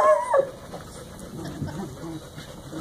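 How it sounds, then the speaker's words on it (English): Several puppies in a small room whimper, opening with a sharp high whine, then soft yips and whines with some nearby voices. "An awful lot of puppies in here today."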